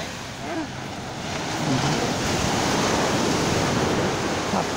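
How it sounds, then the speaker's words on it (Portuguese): Ocean surf washes in a continuous roar on Sununga beach in Ubatuba, Brazil, with waves breaking and swelling, fairly loud and broad, a faint voice briefly audible underneath. "Tá escutando o batido das ondas."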